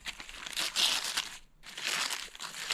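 Newspaper crumpled by hand at a work spot while restoring an old canoe, two bursts of dry crinkling rustle close to the mic separated by a brief pause.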